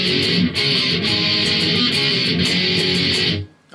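Heavily distorted electric guitar chugging power chords through the breakdown of a song, loud, dense and driving with steady rhythmic accents, then cutting off abruptly near the end.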